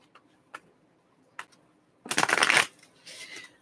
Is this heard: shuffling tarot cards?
yes